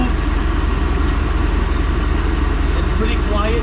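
A repaired boat engine, freshly fitted with new spark plugs, idles steadily at sea with an even low throb throughout, while a voice talks over it.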